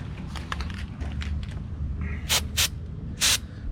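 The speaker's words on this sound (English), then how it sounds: "This is just your white lithium grease." White lithium grease sprays from an aerosol can onto pivot points in three short, sharp hisses close by, following a quieter stretch.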